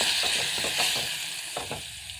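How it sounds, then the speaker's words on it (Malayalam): Tomato sauce with a splash of water simmers and sizzles in a pan while a spoon stirs it in short repeated strokes, close and fairly loud, with no voices. "ഒന്ന് ഇളക്കി കൊടുക്കാം"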